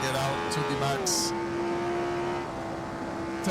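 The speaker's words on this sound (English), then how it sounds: "Revving it out to the max." Lotus Formula One car engine in a racing video game, revving high toward 10,500 RPM, a loud steady whine that holds and sags slightly, with someone talking over it.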